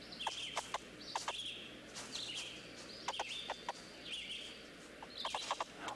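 Bird calls ring out in several short bursts of harsh, repeated notes from a crow, with brief gaps between them, heard at moderate distance over a quiet outdoor background.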